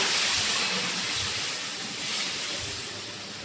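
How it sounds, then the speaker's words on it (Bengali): Water poured into a pan of cooked masala with paneer, making a steady broadband hissing, rushing splash that stays loud and continuous throughout before easing slightly toward the end. "এবার পনিরগুলো দেবো, দিয়ে দেবো পরিমাণ মতো জল"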